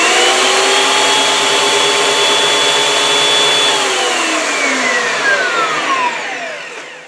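A Bauer 6-inch benchtop jointer runs with a loud, steady whine close by, then spins down with a falling pitch as it is switched off.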